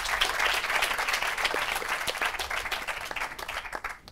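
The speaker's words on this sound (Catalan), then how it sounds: "rebre'm un aplaudiment a la resta de companys que poden entrar" A studio audience on a Catalan word game show applauds warmly, dense continuous clapping from many hands that holds steady and then thins out toward the end, with no voices over it.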